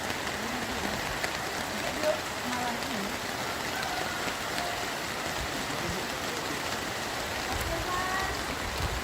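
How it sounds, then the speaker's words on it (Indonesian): Heavy rain pours steadily over the city of Lahat, a dense continuous hiss of water on surfaces with faint voices mixed in underneath. "hujan deras yang mengguyur kota Lahat sejak Rabu 8 Januari sore hingga Kamis 9 Januari pagi"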